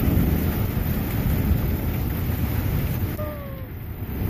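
A thunderstorm with heavy rain pours steadily and loudly, a deep rumble of thunder rolling underneath throughout, close and continuous with no speech.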